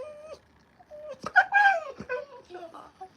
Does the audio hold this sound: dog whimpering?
yes